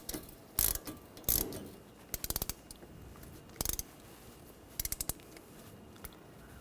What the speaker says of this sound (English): 7mm hex socket, take these caliper guide pins out.